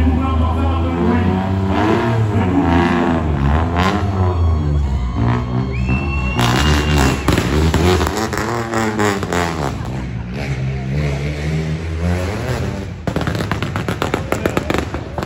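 A rally car engine driven by Jean-Paul Palmero revs hard and loud and close, with rising and falling roars and sharp crackling bursts, almost without a break.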